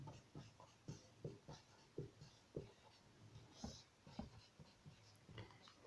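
Pen writing on paper, close and quiet, with a series of short irregular scratching strokes repeating steadily.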